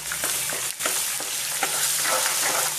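Grated carrot fries in hot oil for carrot pulihora, a loud continuous sizzle with soft, regular stirring scrapes through it, close up and with no voices.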